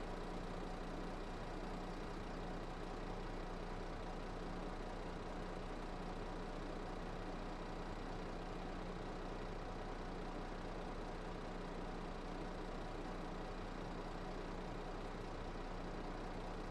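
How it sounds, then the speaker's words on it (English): A 150-horsepower tractor engine in Farming Simulator 22 labours under a heavy load, giving a steady, low, continuous drone that holds evenly throughout with no voices over it. "this tractor's certainly not the biggest fan of this load. I'm making all the 150 horses gallop"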